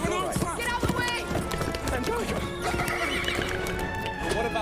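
A horse gallops with rapid clip-clop hoofbeats and neighs loudly in a film scene, the whinnies rising over the running, with voices and other action noise mixed in.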